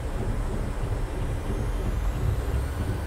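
Boeing 737 jet engines roar steadily as they spool up to takeoff thrust, a dense, loud, continuous rumble heard from the cockpit.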